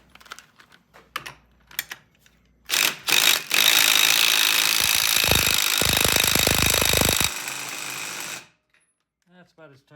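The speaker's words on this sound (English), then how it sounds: "I'm going to tighten that center nut. This is just preliminary using the impact tool." An impact wrench hammers a transmission center nut tight during a transmission reassembly, sounding as a loud continuous close rattle for several seconds after a few short bursts and clicks, then cutting off.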